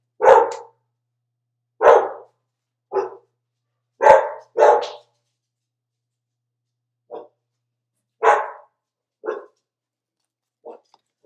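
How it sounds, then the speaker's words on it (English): Several dogs bark in a home, sharp loud single barks spaced a second or two apart, some doubled, fading to fainter yips toward the end, with no talking between them. "my dogs are going to bark"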